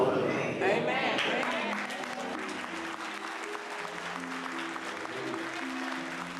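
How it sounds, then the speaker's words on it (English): A church congregation giving a pastor a standing ovation, with dense, sustained applause that starts loud and settles into a steady roar of clapping from a large crowd. "The whole congregation stands up and applauds Kuhlman, and he gets a standing ovation."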